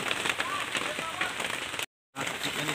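Steady rain pours down outdoors beside a rice field, a dense continuous hiss of drops with scattered crackling patter, broken by a brief moment of silence before resuming.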